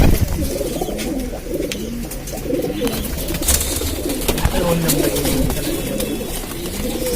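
Pigeons coo repeatedly in a low, rolling chorus at a home loft in Lucknow, including a pahadi kaldua pigeon, with several birds overlapping steadily and close by throughout.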